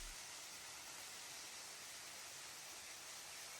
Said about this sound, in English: enjoy the amazing view and sounds of waterfall and nature